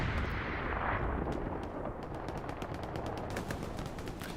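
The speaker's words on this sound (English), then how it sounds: "Bombing run is coming up this direction." A bombing run in the World War II shooter Hell Let Loose on Juno Beach brings a dense, continuous roar of heavy explosions and rapid gunfire, loud and unbroken throughout.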